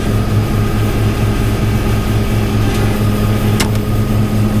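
A large tractor-driven straw blower runs with a loud, continuous mechanical drone and a steady pulsing hum, close and unbroken, with no talking.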